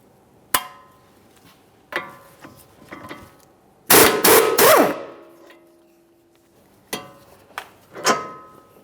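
Metallic wrench and socket clicks and knocks while the 18mm nut on a sway bar link comes off a 2011-2021 Jeep Grand Cherokee front air shock, sharp isolated taps, then a loud burst of rapid rattling and ringing.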